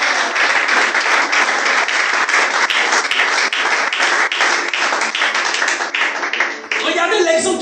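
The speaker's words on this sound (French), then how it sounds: "Acclame Jésus ce matin" A church congregation at a missionary church service claps and applauds in praise of Jesus, with dense, rhythmic, loud clapping that carries steadily and shifts to looser applause near the end.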